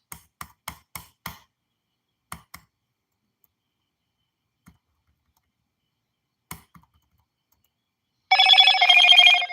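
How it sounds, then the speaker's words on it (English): Electronic telephone ringing in a dense, loud warbling burst near the end, after a run of sharp isolated clicks and taps in an otherwise quiet room. "Shut the fuck up, phone. I don't want to hear you."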